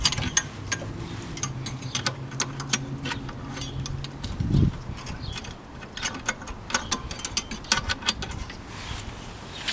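Ratchet tightening valve cover bolts on a 1998 Toyota Corolla, with steady bursts of fine clicking and light metallic taps close by, plus a brief low thump midway.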